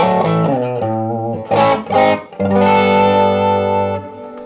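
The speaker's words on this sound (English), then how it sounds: "pretty classic sounds there, and it's just kind of getting into some nice overdrive" An electric guitar played through a Todd Sharp JOAT 20 amplifier, its overdriven tone sustaining rich chords and a couple of quick bright stabs, bright but not shrill, alone without talk.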